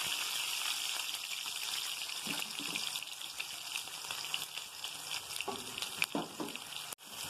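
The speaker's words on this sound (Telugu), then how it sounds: "కొన్ని జీలకర్ర, ఆవాలు వేసుకోవాలి. కొద్దిగా 2 ఒట్టిమిరపకాయలు, కొద్దిగా మనం ముందే నూరుకున్న అల్లం పేస్ట్" Cumin, mustard seeds, two dried red chillies and ginger paste fry in hot oil with a steady, fairly quiet sizzle, broken by a few stirring clinks and scrapes toward the end.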